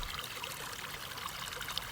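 Shallow water from the Suwoncheon stream trickles and babbles over stones, a steady close-up flowing sound with small bright splashes, quiet and without voices.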